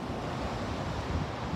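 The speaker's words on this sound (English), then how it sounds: "It's so peaceful to come here and to just hear the waterfall." A waterfall in the Ozarks, heard as a steady, dense broadband rush of falling water with no pauses, close and fairly loud, with no voices over it.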